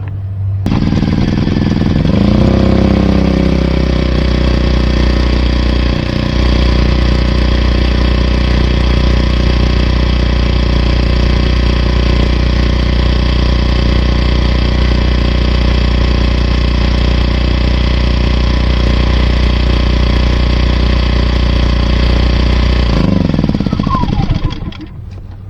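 A General Electric gasoline generator engine runs steadily at close range after an oil change, a loud constant mechanical drone that starts up abruptly and shuts down near the end.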